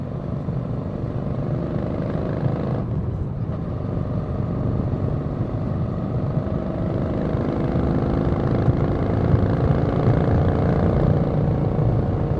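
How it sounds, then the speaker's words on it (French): A Royal Enfield Super Meteor 650 fitted with Hard exhaust silencers rumbles steadily on a country ride, its deep engine note droning on without pause, close and fairly loud. "les silencieuses Hard, c'est vrai que ça coûte un bras, mais je regrette pas du tout de les avoir achetées parce que j'adore le son"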